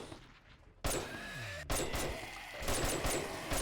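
Rapid bursts of gunfire in the video game 7 Days to Die crackle in quick succession, loud and close, with a brief pause before the shooting resumes.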